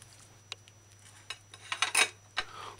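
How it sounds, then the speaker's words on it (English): A knife cuts off the bottom of a pineapple on a board, giving a few sharp clicks and scraping, crunchy strokes near the end, close and otherwise quiet. "Cut off the bottom of the pineapple."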